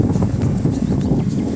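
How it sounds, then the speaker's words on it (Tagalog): Strong wind gusting across a microphone beside a road near a bridge in Davao City, a continuous low buffeting rumble heard up close with no talk. "kay grabing hangin gid"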